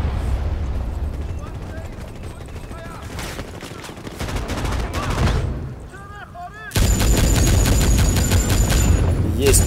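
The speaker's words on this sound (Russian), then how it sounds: "И одиночными пулемет рулит." Machine gun fire in a Medal of Honor 2010 multiplayer match: dense, loud bursts of shots, with a short lull before a heavier, sustained barrage near the end.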